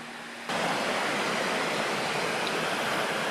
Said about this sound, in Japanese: 川ですね。